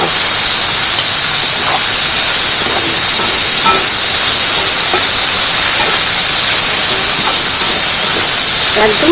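Samla greens hit a pan of hot frying spice paste for a prawn dish, setting off a loud, steady sizzle and hiss that runs unbroken throughout.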